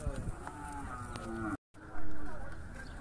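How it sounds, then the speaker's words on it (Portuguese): Cattle low repeatedly at a busy livestock market in Campina Grande, with moos rising over steady crowd noise and distant voices around the pens, broken by a brief dropout midway. "Quatro vacas paridas."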